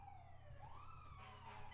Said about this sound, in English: Oop, there's some kind of police car coming by.